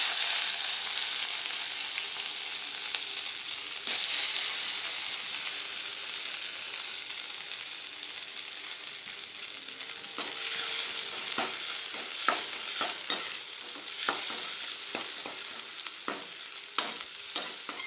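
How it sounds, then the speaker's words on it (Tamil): Onions and tomatoes fry in hot oil with mustard seeds in a clay pot for potato gravy, a loud steady close sizzle with occasional stirring scrapes and taps toward the end. "மடிச்சட்டி அடுப்பில் வச்சு எண்ணெய் ஊற்றியாச்சு எண்ணெய் காஞ்சிருச்சு கடுகு போட்டுக்கலாம் அரிஞ்சு வச்சுருக்கிற வெங்காயம் தக்காளி போட்டுக்கலாம்"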